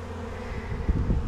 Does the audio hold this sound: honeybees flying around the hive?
yes